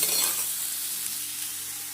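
Onion frying in a pan for spicy curd ladyfinger sizzles with a steady, loud hiss, close up and continuous, with no voices.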